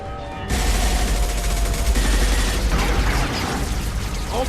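Gunfire in the video game Mass Effect 2: a loud, dense, sustained burst of rapid shots that fills the whole moment without a break, with no voices.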